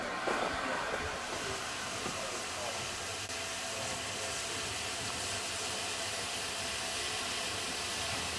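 A steam locomotive's firebox on the North Norfolk Railway roars and hisses in a loud, continuous rush as the engine is fired, with a few faint clanks near the start.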